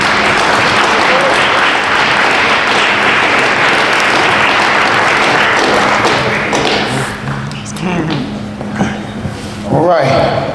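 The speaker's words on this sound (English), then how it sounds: "Round of applause." Loud, dense audience applause at a JV and varsity fall athletic awards assembly in a school setting, thinning out after about seven seconds into scattered claps, thumps and voices as the clapping fades.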